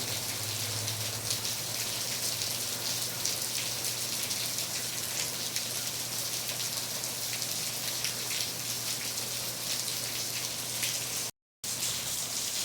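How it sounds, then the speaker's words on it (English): A heavy rain downpour pours steadily outdoors, a dense, loud and unbroken hiss of drops hitting surfaces, with a low hum beneath and a brief cut near the end. "Pretty good downpour."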